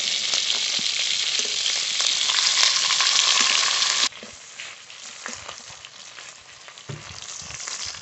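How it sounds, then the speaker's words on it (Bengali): Pieces of patol fish frying in hot oil in a home kitchen, a dense steady sizzle that is loud for the first half, then drops to a quieter crackle with occasional stirring knocks. "পটল মাছ খুব ভালো করে ভেজে নিয়েছি, এবার নামিয়ে নেব।"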